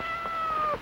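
Cat meowing indoors, a single drawn-out, fairly clear meow close by, with no talk over it.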